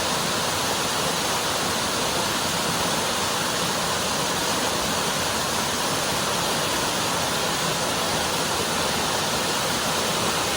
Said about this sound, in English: It's not just a waterfall.